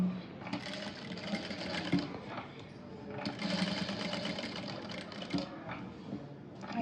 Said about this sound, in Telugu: మిషన్ పాదం లేపుకుంటా వేసుకుంటూ రావాలి